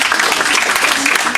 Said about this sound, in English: So a round of applause for James and Webster's.